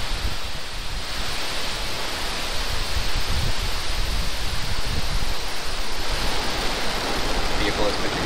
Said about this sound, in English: Ignition. Liftoff. Go Falcon, go GPS.